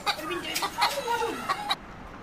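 A Silver Sebright bantam chicken at an ornamental poultry show clucks in a run of short, fairly close calls, then falls quiet near the end.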